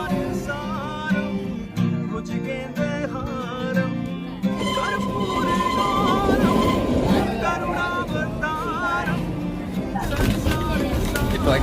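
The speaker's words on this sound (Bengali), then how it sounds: "পাহাড়ের বুকে ছুটে চলা এই টয় ট্রেন একটু একটু করে এগোতে আরম্ভ করলো" A small toy train on the Kalka mountain railway rumbles and rattles steadily along the track, its wheels clattering beneath a continuous mechanical drone with occasional squeals.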